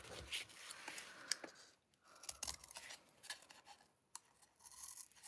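Scissors cut shapes from recycled materials for DIY Christmas decorations, making soft, close snips and crinkles in an irregular rhythm at low volume.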